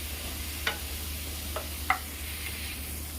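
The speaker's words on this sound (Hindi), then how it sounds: "इसके बाद मैं नमक और भिंडी डालूंगी। गैस को मैं हाई फ्लेम पर कर रही हूँ।" Okra fries in spiced masala in a pan over a high flame: a steady, low sizzling hiss with a few sharp clicks of stirring scattered through it, fairly faint and with no talk.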